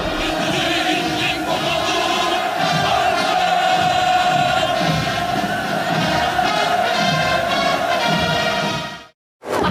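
North Korean soldiers at a military parade shouting in unison, a sustained, loud massed roar of many voices that holds steady before cutting off abruptly.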